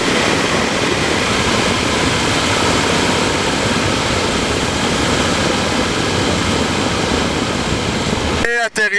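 A small aircraft in flight descends toward landing, its engine drone loud and continuous throughout before a brief burst of sound at the very end.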